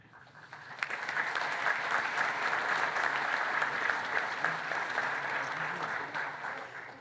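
Steady applause from a large audience at a college graduation ceremony, a dense wash of clapping that swells quickly and holds for several seconds before easing slightly.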